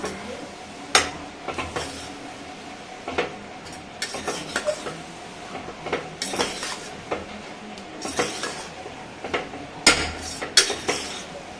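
A spoon scrapes and clinks against a pan in irregular strokes, stirring a thick masala mixture for meal maker gravy, with a faint sizzle underneath.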